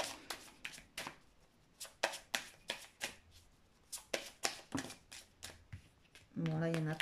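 Tarot cards being shuffled by hand, with a steady run of crisp, close card riffles and slaps roughly every half second, then a brief burst of a voice near the end.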